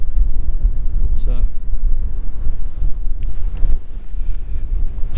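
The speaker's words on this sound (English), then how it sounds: "still quite blustery." Strong gusty wind batters the microphone on the High Willhays hilltop on Dartmoor, a loud, rumbling buffeting that surges and fades, with brief faint sounds breaking through between gusts.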